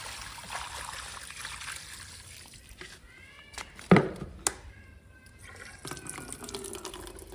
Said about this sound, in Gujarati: પાણી પાઈ દો થોડું